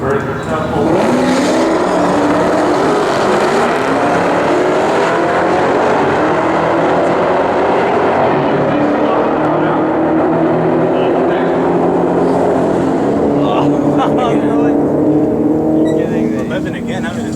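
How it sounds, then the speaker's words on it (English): Pair of drag racing cars launching down the strip at a night drag event where a 2003 Cobra races, a loud sustained roar of engines rising and carrying through, with a voice talking over it. "Last pair of cars on the starting line"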